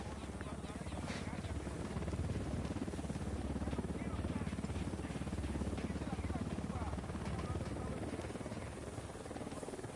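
In the video game Ghost Recon Wildlands, a helicopter's rotor beats as a steady, dense drone that fills the whole stretch and stays constant without letup.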